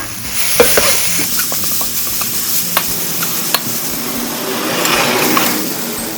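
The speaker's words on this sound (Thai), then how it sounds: "ผัดให้หอมนะคะ" Pork with shrimp paste and stink beans being stir-fried for a southern Thai dish: a steady loud sizzle with scattered sharp spatula scrapes and clicks against the pan, close by and without talk.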